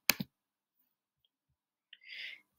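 A single sharp mouse click on an OK button, short and close, followed after a pause by a brief soft rustle, with no talking.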